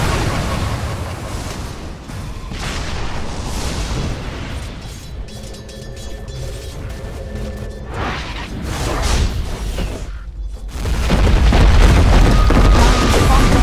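Booming explosions and whooshing impacts as a tower comes under attack in a Dota 2 match, loud and layered, easing in the middle and swelling into a heavy roar near the end.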